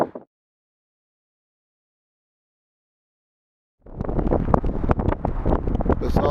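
Wind on a cold, damp 7-degree day buffets the microphone in rough, gusty bursts after a stretch of silence, loud and close with no voices.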